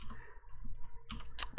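Mouse clicks on a computer while working in Blender 3D software: a few sharp clicks near the end, close and fairly quiet over a low hum.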